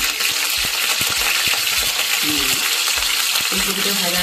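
Vegetables such as cauliflower fry in hot oil with a steady, close sizzle and crackle, broken by repeated light clinks and scrapes of a spatula stirring the pan.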